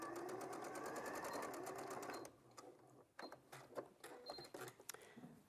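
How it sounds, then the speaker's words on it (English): Sewing machine stitching, a fast even run of needle strokes for about two seconds, then stopping into a few scattered clicks and brief bursts of stitching, quiet and close with no talking. "sometimes sewing machine doesn't like a bulking start, don't they?"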